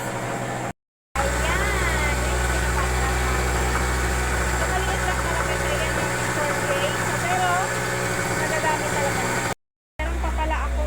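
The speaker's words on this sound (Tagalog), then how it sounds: "Nandito yung aming generator. Papakita ko sa inyo guys." A generator engine drones steadily at a home during a power outage, a constant close mechanical hum with vibration, while a person talks over it.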